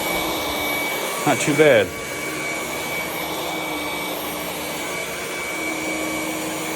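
A Ryobi HP brushless stick vacuum runs on its high setting, giving a steady, loud whine and airflow roar through the whole stretch, with a brief burst of handling noise near the start and a voice speaking over it.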